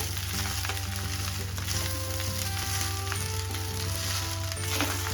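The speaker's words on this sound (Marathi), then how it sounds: "आता आपण पूर्ण असा व्यवस्थित राईस परतून घ्यायचा आहे" Steady sizzling and frying with scraping stir strokes of cooked rice for egg rice in a hot pan, continuous and close, with no voices.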